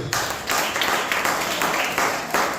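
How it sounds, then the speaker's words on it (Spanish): A church congregation claps loudly and in unison, the applause pulsing in a steady rhythm of regular bursts throughout. "Levante un aplauso fuerte a Dios."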